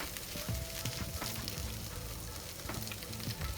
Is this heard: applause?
no